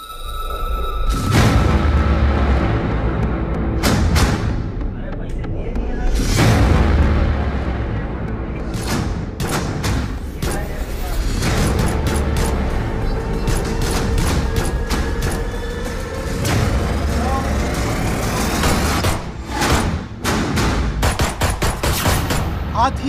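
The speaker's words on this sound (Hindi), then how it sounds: "नकाबपोश बदमाशों ने एक शख्स पर ताबड़तोड़ गोलियां बरसा दी" Rapid volley of gunshots fired by masked attackers at a man at night, caught on CCTV in Safipur: sharp repeated cracks and booms burst over a steady loud background throughout, with no clear talk.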